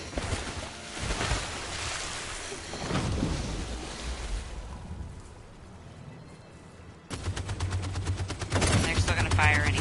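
Deck-mounted 50 cal machine guns on a boat in Detroit: Become Human blast over rushing water and rumbling noise, then a dense rapid burst of automatic fire takes over near the end, loud and continuous.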